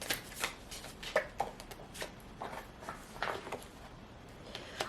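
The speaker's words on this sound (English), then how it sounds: "Let's pull some oracle cards here." A deck of oracle cards being shuffled by hand, with a steady run of soft riffling and slapping card sounds, close and unaccompanied by any voice.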